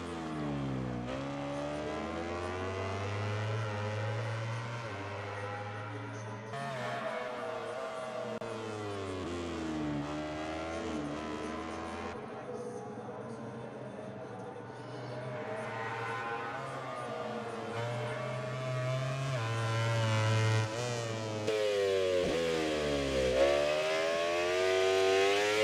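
An Aprilia race bike engine in MotoGP 18 screams steadily through rising and falling revs as gears shift, a continuous high-pitched wail that stays loud throughout with no talk.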